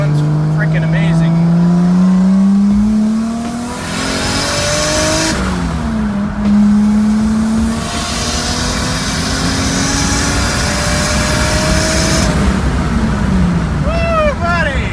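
Freshly swapped into a Lexus, a new engine pulls hard through rising gear sweeps, loud and close from inside the car, with brief lulls between shifts and excited talk over the engine.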